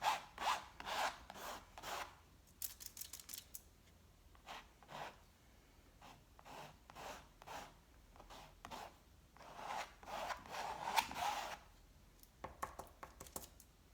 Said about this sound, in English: And then you literally just start kind of scratching and pulling that paint.